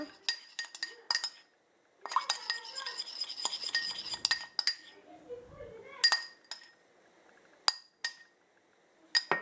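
Spoon stirring paprika into soup in a bowl, with a run of close, bright clinks and scrapes against the bowl, some rapid and some spaced apart, plus a soft voice in between.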